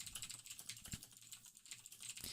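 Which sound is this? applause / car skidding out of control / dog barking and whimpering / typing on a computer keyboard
typing on a computer keyboard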